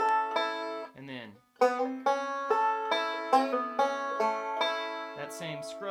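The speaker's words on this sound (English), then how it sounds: "that same Scruggs lick" A banjo plays a bluegrass Scruggs-style lick from a solo on the fiddle tune Bill Cheatum, bright plucked notes in quick, even rolls with a brief dip in the middle, close and clear with no talking.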